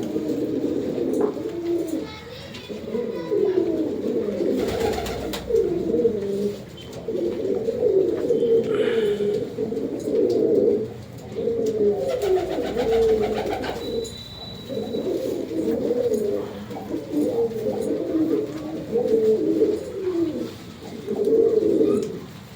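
Several pigeons, including black, blue-barred and white birds, coo steadily through a continuous low warbling chorus, close and fairly loud, with a few brief rustles and wing flutters mixed in.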